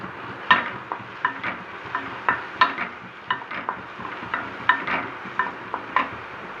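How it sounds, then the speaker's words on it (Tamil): Radish pieces sautéed lightly in a pan for a radish curd pachadi, with a spatula scraping and tapping at an even pace over a soft, low sizzle. "முள்ளங்கி சேர்த்துட்டு லைட்டாக வதக்கிட்டு கொஞ்சமாக உப்பு போட்டு"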